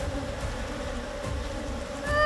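Steady insect buzzing fills the air, a dense droning hum of many bees that swells slightly louder near the end.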